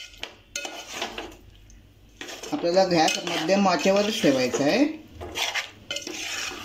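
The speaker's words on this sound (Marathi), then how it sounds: "आता आपण हे वाटण व्यवस्थितपणे आतमध्ये मिक्स करून घेऊया" A spoon stirs and scrapes ground masala paste around a metal pan for Malvani-style baby shark masala, with repeated clinks and scraping while someone talks over it.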